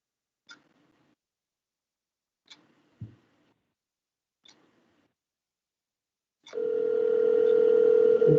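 A telephone being called during an online zoning board meeting: a few faint scattered clicks and ticks, then a steady, loud dial tone that holds to the end.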